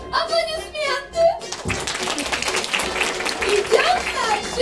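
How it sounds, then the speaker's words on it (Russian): An audience claps warmly at a children's concert for a children's creative arts centre's 50th anniversary in Anadyr; a presenter speaks briefly, then dense, loud applause fills the hall and continues steadily. "Аплодисменты!"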